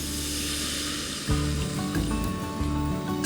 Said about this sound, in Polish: Dolewam czerwonego wina.